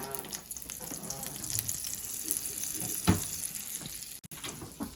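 Butter sizzling in a pan for gravy, a low steady frying hiss with small crackles and a brief clatter near the middle.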